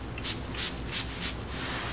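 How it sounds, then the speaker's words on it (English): Spray lubricant from a spray bottle in a Turtle Wax scratch repair kit, misted onto a car's scratched paint before sanding: four short, close hissing bursts in quick succession. "So just spray on lubricant"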